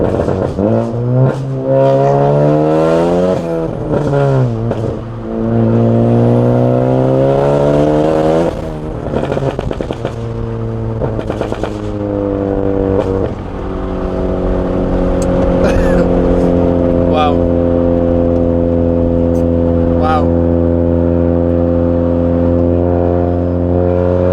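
A big-turbo Ford Focus ST engine revving hard, loud and close, with repeated rising and falling sweeps of pitch, then a long sustained high rev with turbo whoosh, and a voice talking at points over it.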